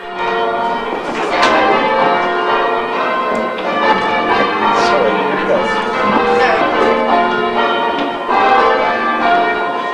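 Church bells in a village tower are rung in change ringing, sounding loud and close as a continuous stream of overlapping ringing tones with steady, evenly spaced strikes.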